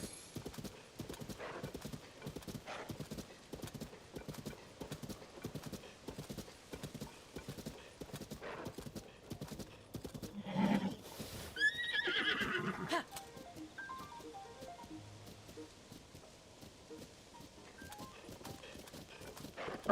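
A horse in Zelda: Tears of the Kingdom clip-clops steadily for a long stretch, hoofbeats close and rhythmic, with a loud neigh and whinny breaking out around the middle before the trotting resumes.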